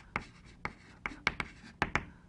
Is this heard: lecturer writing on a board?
yes